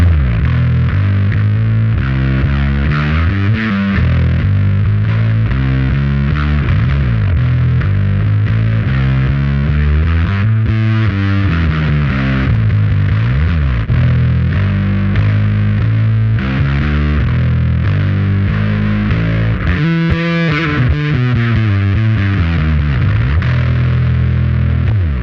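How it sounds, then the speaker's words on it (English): A Toby electric bass is played through heavy distortion, giving a continuous thick, buzzing tone with shifting notes and no pauses for about 25 seconds. "You can hear the resonance in the body and just the tone of the bass, even though you have like heavy distortion on."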